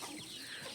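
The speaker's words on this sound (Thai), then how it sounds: "เจ้าไก่น้อยเจ้าขึ้นไปอะไร เจ้าขึ้นไปทำไม" Chicken clucking near a house in the Thai-Lao countryside, a soft, brief burst of hen calls over faint steady background noise.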